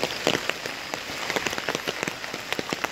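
Heavy rain pattering densely on a hard surface, with steady crackling drops close by and no voices.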